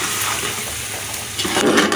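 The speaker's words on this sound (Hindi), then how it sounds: "इसमें 1/2 गिलास पानी डाल दिए ताकि आलू गल जाए।" Half a glass of water is poured into a cooking pot of potatoes for a chana aloo biryani, a steady splashing gush that swells near the end, with no talk.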